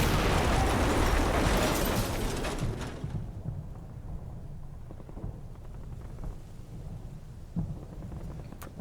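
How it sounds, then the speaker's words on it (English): Artillery fire-mission explosions in the Combat Mission Battle for Normandy video game: a heavy, loud blast that rolls off into a long, fading rumble, followed by quieter distant thuds and crackles. "So we've got another fire mission coming in back there."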